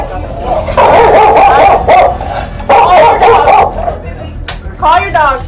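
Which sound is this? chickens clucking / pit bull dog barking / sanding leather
pit bull dog barking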